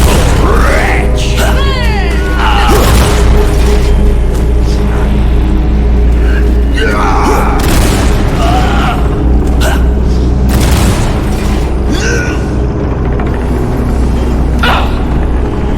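Bombard siege cannon under attack in a fantasy strategy video game, heard as a dense, loud barrage of booming impacts, crashes and rumbling battle noise, with a game narrator's voice announcing over the chaos.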